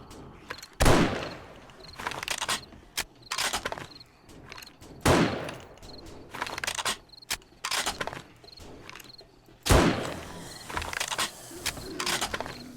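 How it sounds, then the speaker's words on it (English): Gunfire in a zombie video game during a horde night in Alpha 19.1, shooting zombies through a fence: repeated sharp bursts of shots at irregular intervals, loud and close, with a steady chirping background between them. "I can shoot them through the fence."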